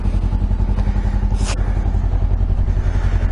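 A Honda CB500X motorcycle engine idles right after firing up, a close, steady rhythmic exhaust throb through the muffler with a brief hiss partway through.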